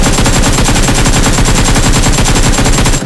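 Rapid, sustained gunfire in a video game, loud and dense throughout with no pauses, ending abruptly; more like continuous automatic fire than single shotgun blasts.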